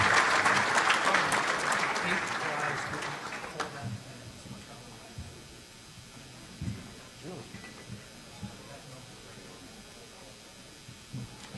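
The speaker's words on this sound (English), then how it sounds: "let's give a round of applause to all our volunteer coaches across the county" An audience at a county coaches hall of fame induction applauds its volunteer coaches: dense, loud clapping for about four seconds that fades into scattered claps and faint room noise.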